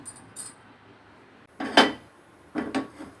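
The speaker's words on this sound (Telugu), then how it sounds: "ప్యాన్ పెట్టుకున్నాను" A frying pan for deep-frying rava vadas is set down on the stove, a couple of soft metallic knocks and clatters, close and moderately quiet, with near silence between them.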